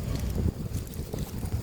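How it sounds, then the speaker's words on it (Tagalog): Strong gusts buffet the microphone with a heavy, rumbling roar that rises and falls in waves, loud and close, with no voices. "Malakas ng hangin."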